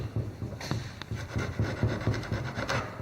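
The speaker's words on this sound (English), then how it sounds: "just going to use a chisel just to clean up those little edges that the saw didn't catch" A hand chisel pares the last small edges of a sawn rebate joint in wood, giving short scraping, rasping strokes in an uneven rhythm, close up and fairly quiet, with no talking.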